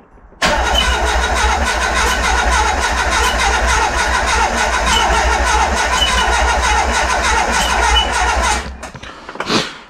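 A flooded car engine cranks on and on without catching, a loud, continuous churning whir lasting about eight seconds before cutting off, with a few faint clicks after.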